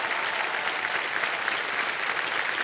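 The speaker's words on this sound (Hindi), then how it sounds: "तालियों के साथ इनका स्वागत किया जाए।" Studio audience on a TV quiz show applauds to welcome a guest, a thick, even roar of many hands clapping together, loud and sustained without a break.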